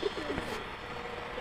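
Pet pigeons coo softly in a short, faint burst of low throaty calls, close by, with light background noise.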